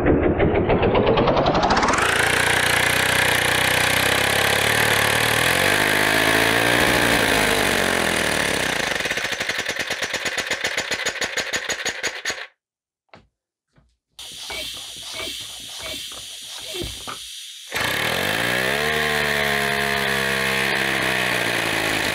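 A 3D printed compressed-air engine fed at 60 psi, running in reverse, gives a loud, steady hissing, rapid chugging that slows into distinct beats, cuts out briefly with sputters, then roars back up to speed.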